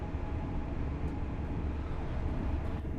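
A train passing in the Train Sim World 4 video game, heard as a steady broad rumble and rush that stays even and moderately loud throughout.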